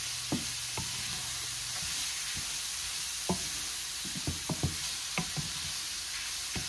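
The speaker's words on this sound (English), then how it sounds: "my vegetables cooking like I want them to cook" Vegetables, including peas, fry in a pan for chicken cauliflower fried rice, giving a soft, steady sizzle with scattered light knocks and scrapes from stirring.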